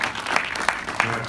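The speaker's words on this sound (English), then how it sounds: "Let's start by giving applause to" An audience applauding at an event honouring a film's creators, a sustained patter of clapping with a few louder, sharper claps standing out, moderately close.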